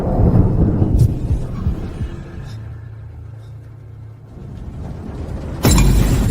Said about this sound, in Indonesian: Kok tiba-tiba ada petir?